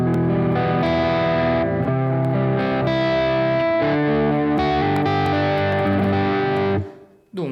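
An electric guitar played through an amp or amp-modelling app rings out with sustained distorted, clipping chords, loud and dense for several seconds before cutting off abruptly.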